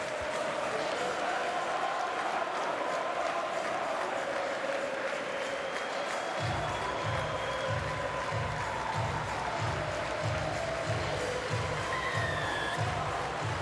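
Steady applause rolls around a stadium crowd at a Warrington Wolves versus Leeds Rhinos Super League rugby league match, distant and sustained, joined midway by a rhythmic low drumbeat.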